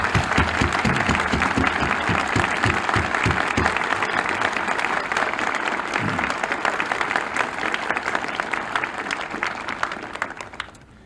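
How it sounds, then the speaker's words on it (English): Sustained audience applause at an outdoor plaza dedication honoring the creators of a large arch, dense steady clapping that holds for about eleven seconds before tapering at the end. "May we have a moment's applause for the creators."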